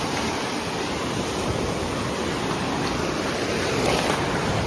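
Steady broadband wash of waves breaking on a Spanish shore, a continuous rushing surf sound that stays loud and even throughout with no voices.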